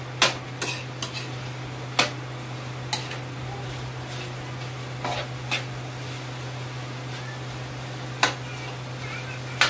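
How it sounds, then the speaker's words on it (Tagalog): Adobong kangkong with pork being stirred in a pot, heard as sparse, sharp clinks and scrapes of a utensil against the pot at irregular intervals over a steady low hum. "Ihalo na natin ang ating ulam."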